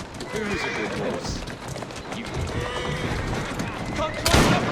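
A horse in a Victorian London street in Assassin's Creed Syndicate clops its hooves steadily close by, with a short neigh near the end, while characters talk over the scene.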